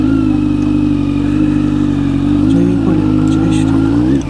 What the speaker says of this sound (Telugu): ఫస్ట్ టైం ఈ బండి ఎక్కిపోతున్నా పైకి.